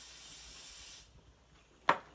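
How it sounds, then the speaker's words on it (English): A single short burst of pixie spray from an aerosol can onto the back of a paint stencil, a sharp close hiss near the end after quiet room tone. "I'm going to take some pixie spray and put that on the back of my stencil."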